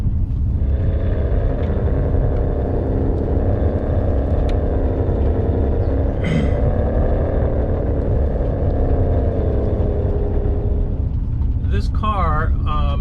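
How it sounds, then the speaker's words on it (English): A Ferrari 599 GTB Fiorano pulls away from a standstill, its engine giving a steady low rumble that builds gradually, loud and close, with the automated clutch releasing as it moves off. "I usually let off the brake and go on the gas, and it automatically releases the clutch"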